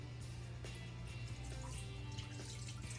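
Apple juice and unsalted beef broth, about two cups, pour into an Instant Pot as a steady liquid stream with faint splashing and drips, quiet and continuous with no talk.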